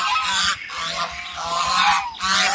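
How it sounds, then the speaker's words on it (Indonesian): A goose honks loudly and close by in repeated harsh, nasal bursts, with brief pauses between calls and no voices. "Ini angsa teman-teman."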